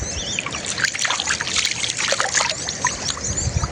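Cold water splashes and trickles in quick, irregular bursts as someone washes their face outdoors, close and fairly loud with no voices.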